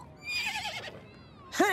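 A horse in the Toca Life video game gives a bright, shrill whinny that rises and wavers, then fades, before a second sharp neigh bursts in right at the end, loud and close.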